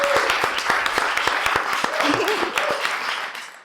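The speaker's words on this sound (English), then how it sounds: "You guys were a wonderful crowd, so give an applause for yourself." Poetry reading audience applauding at the close of the evening, a dense wash of clapping from a crowd with a few cheers, steady and fairly close, ending abruptly.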